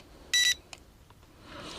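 A drone's handheld transmitter gives one short, sharp electronic beep on switch-on, followed by a few faint clicks in a quiet room.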